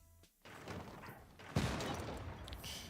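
A field cannon fires in a Civilization VI multiplayer match, a muffled boom followed by a rumbling, layered burst of game combat sound, with no speech.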